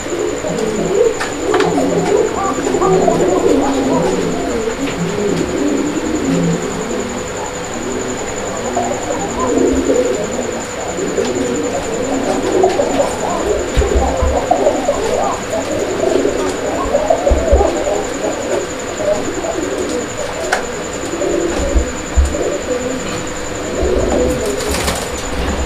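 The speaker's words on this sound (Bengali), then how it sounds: "একজোড়া বোম্বাই কবুতর, খুব সুন্দর একটা পেয়ার, একদম টকটকে লাল রঙের একজোড়া বোম্বাই কবুতর আছে এখানে" A pair of red Bombay pigeons coo steadily and close by, soft throaty calls repeating through the whole stretch with a few faint chirps and no talking.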